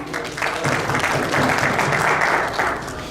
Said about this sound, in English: give Mrs. Shaw another big round of applause